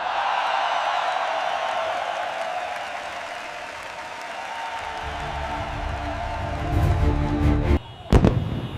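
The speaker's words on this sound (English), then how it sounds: "Wow, look at the fireworks." Fireworks burst over a Kuwait National Day street celebration on Arabian Gulf Street, with crowd noise throughout, then loud close bangs and crackles near the end.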